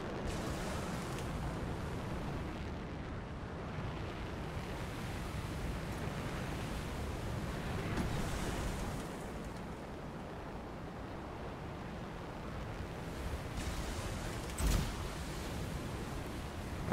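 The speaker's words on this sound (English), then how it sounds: "Waterfall action." Waterfall in the video game Anthem, a steady broadband rush of falling water that holds at an even, moderate level throughout, with no voices over it.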